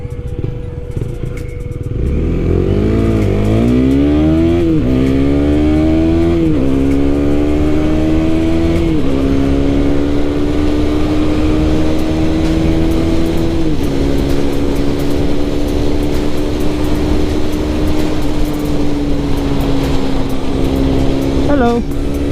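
A KTM Duke 390, a small-displacement motorcycle, revs and pulls through several upshifts while riding, its engine note climbing and dropping with each gear change, loud and steady throughout with wind noise.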